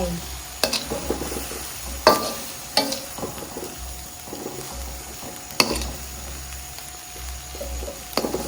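Red ant eggs stir-fried in a pan until the liquid dries off, with a soft sizzle underneath and repeated sharp scrapes and taps of the spatula at irregular intervals, close and clear.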